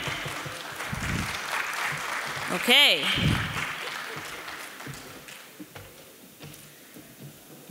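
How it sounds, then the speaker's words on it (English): Conference attendees at a development financing session applaud in a steady wash of clapping, with a brief squeal of feedback or a whistle partway through and a short spoken word, before the clapping fades out. "A round of applause, ladies and gentlemen."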